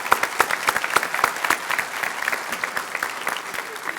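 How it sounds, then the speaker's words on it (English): An audience at a State of the City address in Owensboro, Kentucky breaks into steady applause, a dense patter of many hands clapping at close range, with no talk, for about four seconds. "And a round of applause again for you guys."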